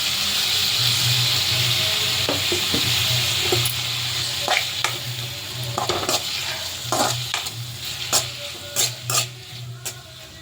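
Onion and tomato sizzle steadily in a frying pan with a constant hiss, while a spatula stirs and scrapes the pan in irregular clacks that grow louder and more frequent toward the end.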